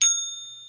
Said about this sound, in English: I need a shame bell